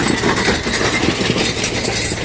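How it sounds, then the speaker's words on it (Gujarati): A New Holland 5510 4WD tractor in four-wheel drive pulls a 6-foot rotavator through very hard, cloddy field soil, its diesel engine droning loud and steady with constant low rumble and no talk. "આ રીતનો ન્યૂ હોલેન્ડ 5510 હાલે."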